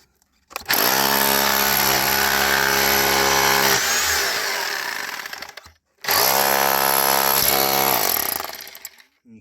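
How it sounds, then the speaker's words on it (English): A hammer drill breaks through rock in a fence post hole, two long loud bursts of rapid pounding and motor whine, separated by a short pause. "I have to get my hammer drill because there's just so much rock."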